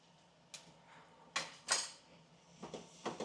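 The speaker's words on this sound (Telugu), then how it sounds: "పసుపు వేసి కలుపుకొని" A spoon stirs turmeric into mutton curry in a metal pot, producing a few faint scattered scrapes and clinks of metal against metal, close but quiet, with no talking.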